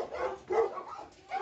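Dogs at a large kennel housing big male Labradors, giving short yelping barks and whines in quick bursts, fairly close and moderately loud.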